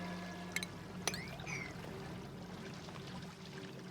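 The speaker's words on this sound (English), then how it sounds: "stop having the water go all over the place" Water pours and trickles steadily in a video game scene, a soft continuous splashing flow with a couple of brief clicks and tonal chirps over it, fairly quiet.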